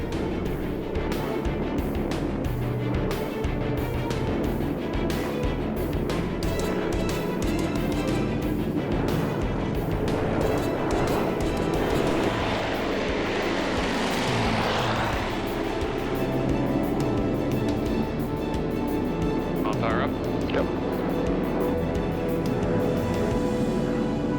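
A Buffalo aircraft making a gear-up landing, a continuous loud rumbling engine and propeller roar swelling in the middle, heard alone without speech.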